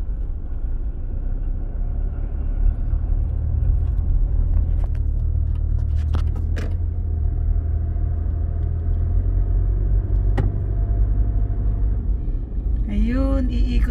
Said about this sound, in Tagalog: puro truck ang pumapasok dito